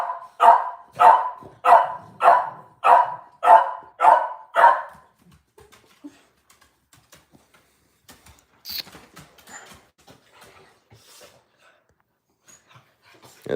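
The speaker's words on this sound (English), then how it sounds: "There's my doggies." Dogs bark at close range, a run of about eight loud, evenly spaced barks, then quieter scattered rustles, whimpers and small sounds follow.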